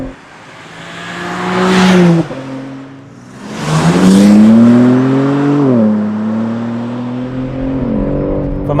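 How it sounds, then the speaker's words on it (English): A new BMW M4 with a catalytic converter and particulate filter is heard from outside, its engine and exhaust surging twice in loud revs with rising and falling pitch, with no talking. "hopefully the outside shots will give you a sense of what the car sounds like"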